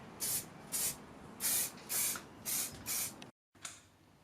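Six short hissing bursts of a Hammerite aerosol spray paint can, evenly spaced about half a second apart, then a brief silence and one final spurt.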